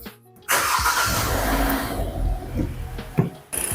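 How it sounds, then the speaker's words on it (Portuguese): A Kia or Hyundai 2.0 car engine, just fitted with new spark plugs, cranks and catches, then settles into a steady idle with a slight rev near the end, heard up close and fairly loud. "é hora de ligar o motor e ver se está tudo funcionando certinho"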